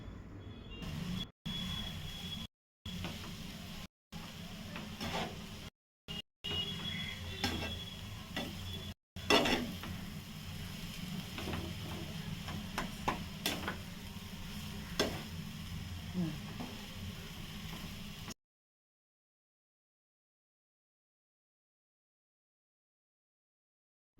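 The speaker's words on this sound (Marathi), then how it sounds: "पुन्हा छान असं त्याला ढवळून घ्यायचं" Rava and coconut modak mixture being stirred in a pan as the sugar melts, giving a steady low scraping and soft sizzle that runs continuously, broken by a few brief gaps, with no talking.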